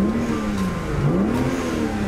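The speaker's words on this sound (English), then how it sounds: "Yeah, so when we rev up" A twin-turbo BMW 335i engine revs steadily up and down at close range, its droning tone rising and falling continuously without speech.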